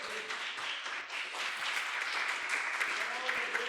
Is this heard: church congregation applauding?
yes